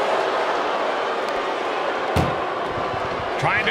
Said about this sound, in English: at least slam one door shut.